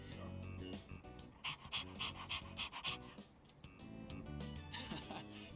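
A dog pants rapidly and rhythmically in the video game Persona 3 Reload, quick breathy puffs over game background music; a voice talks briefly.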